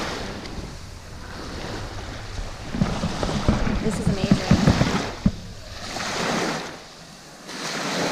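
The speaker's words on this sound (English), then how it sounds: "It's the ocean." Ocean waves wash steadily at Harvest Caye, Belize, a broad surf hiss with some wind noise, rising and falling in swells, while a person speaks briefly in the middle.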